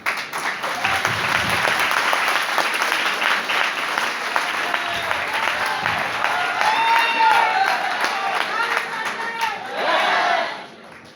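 A crowd at a training session claps and cheers loudly and continuously, with whoops and shouted calls rising over dense applause that holds steady and swells briefly near the end.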